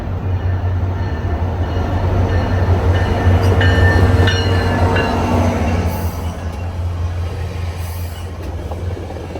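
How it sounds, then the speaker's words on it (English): A northbound passenger train rolls past loudly near Lynx Central, Orlando, with a heavy rumble, clattering wheels and faint metallic squeals, the noise easing slightly toward the end. "This train was northbound, just out of its Lynx Central stop."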